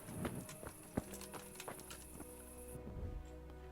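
A horse's hooves clip-clopping in the medieval game Kingdom Come Deliverance, a quick run of close, sharp hoof strikes that fade out over a few seconds.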